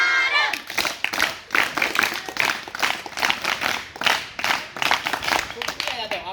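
Students clap loudly together in a classroom, a dense burst of hand claps that runs for several seconds in quick repeated waves, with voices mixed in.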